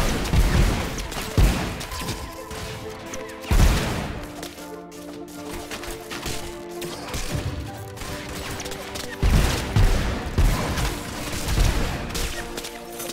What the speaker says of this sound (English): That was a sniper shot and a half.